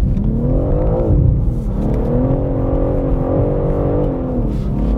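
A BMW M3 Touring engine under load while the car slides in the rain, a loud, steady, close growl with wavering pitch as revs rise and fall, no talk over it.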